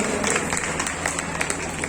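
An audience at a Hindi poetry recitation claps in a steady, scattered patter that lasts about two seconds, with no clear talk over it.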